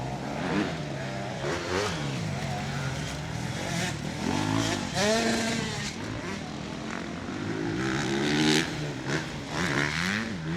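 Motocross bike accelerating on a dirt track, with several rising and falling revs at a moderate distance, some close and loud, set against general track noise.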